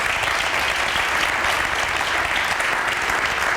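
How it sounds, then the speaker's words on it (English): A crowd at a Black community gathering in Portland applauds in a sustained, dense wash of clapping, loud and even throughout with no talk over it. "So one more time, give them a big round of applause."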